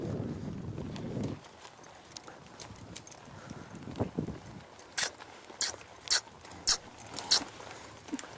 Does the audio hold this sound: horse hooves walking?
yes